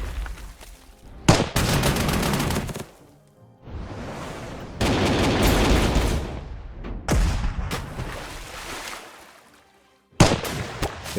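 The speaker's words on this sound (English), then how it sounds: "This is the naval force shooting at me." Naval gunfire shelling in the strategy game Panzer Corps 2: several loud, heavy booming blasts, each followed by a long rumbling roll, then a sharp final impact. Nobody speaks.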